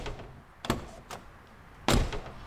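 A Mini's car door shutting during a window regulator test in a garage, two solid thunks about a second apart, close and fairly loud, with faint mechanical noise between them.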